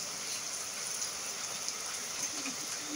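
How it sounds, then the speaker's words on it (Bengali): Heavy thunderstorm rain falls steadily in Chuchura, Hooghly, a dense, even hiss that holds at one level throughout with no thunder and no voices. "কি বৃষ্টি হচ্ছে"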